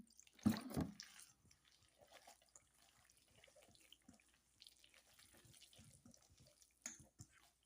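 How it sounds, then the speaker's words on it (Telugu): A short splash of water goes into a ragi flour batter for uttapam, followed by faint, quiet trickling and mixing in a hushed kitchen. "కొంచెం వాటర్ అయితే వేసుకుందామండి"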